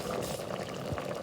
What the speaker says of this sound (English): So I'm going to put in about a cup or two of liquid.